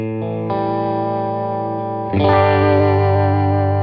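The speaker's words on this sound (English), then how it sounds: "I can have the vibrato fade itself in" A Fender effects pedal shapes sustained electric guitar notes, a held tone whose vibrato swells in gently before a louder, brighter chord is struck and rings out alone.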